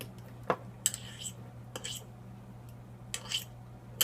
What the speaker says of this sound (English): And I'm just stirring it around here, mixing the honey all into the butter.